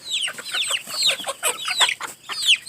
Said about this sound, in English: I got the little baby chicks over here, some more chickens